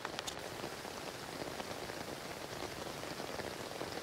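Steady rain patters densely on a tent close by, a continuous soft hiss of drops with no other sounds.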